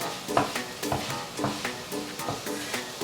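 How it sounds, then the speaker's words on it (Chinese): Tofu stir-fried with turmeric and oil in a pan, sizzling steadily while a utensil scrapes and stirs in repeated strokes about twice a second, close and alone. "接着加入一點薑黃粉、一點油，炒一炒，讓它顏色均勻。"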